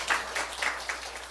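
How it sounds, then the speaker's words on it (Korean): A church congregation applauds in a brief, moderately loud burst of scattered clapping. "우리 하나님 박수 올려드려요."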